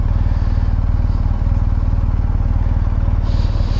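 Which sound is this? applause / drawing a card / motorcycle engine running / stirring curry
motorcycle engine running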